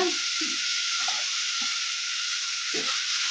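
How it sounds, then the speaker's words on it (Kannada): Onion and green chillies fry in a pan over medium flame for masala pasta, a continuous close sizzle broken by several soft clicks and scrapes of stirring. "ಒಂದು ಎರಡು ನಿಮಿಷ ಫ್ರೈ ಮಾಡ್ಕೊಂಬಿಡೋಣ"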